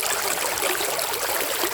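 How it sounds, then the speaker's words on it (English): River water flowing in Montego Bay, Jamaica, a steady rushing wash that stays fairly soft and even over a short stretch, with no voices. "After a hot day downtown, the river is perfect."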